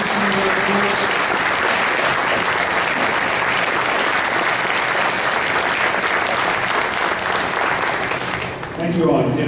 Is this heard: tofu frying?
no